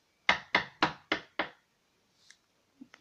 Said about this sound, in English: Oh, it's someone at the door.